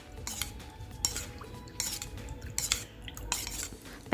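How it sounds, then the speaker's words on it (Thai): A spoon clinks and scrapes against the sides of a bowl in repeated strokes, stirring cornstarch into water with soft swishing between the taps. "คนให้แป้งละลายค่ะ"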